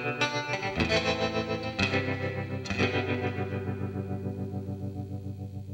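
Clean electric guitar through a tremolo effect: several strummed chords ring out and decay with a steady, pulsing volume wobble, played alone without any voices.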